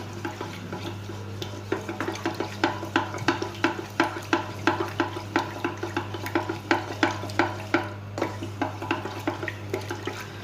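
Milk stirred in a small, fast-heating electric pot for homemade ice cream, a steady rhythm of close scraping strokes repeating about twice a second over a low constant hum, with no talking.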